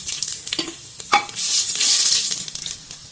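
Whole spices, including chilli, cumin, cardamom, cloves and black pepper, fry in hot mustard oil in a pressure cooker for parda biryani, with loud bursts of crackling sizzle and short utensil scrapes, close and unaccompanied by voices.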